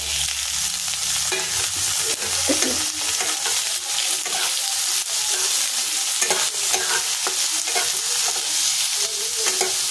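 Potato pieces lightly frying in oil for a fish curry with chopped onion: a steady close sizzle runs the whole time, broken by repeated scraping and stirring clatter, with no talking.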